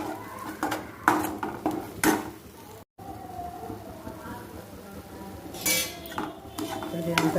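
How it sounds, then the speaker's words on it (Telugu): A spoon scrapes and clinks in a pan while stuffed brinjal curry with turmeric and salt is mixed, with irregular metallic stirring strokes close up and soft kitchen background noise. "అంతా బాగా కలుపుకోవాలి."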